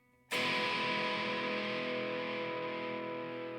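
A chord strummed on an electric TE kit guitar through the bridge pickup starts abruptly after a short quiet moment. It then rings out bright and sustained, slowly fading, with no voices.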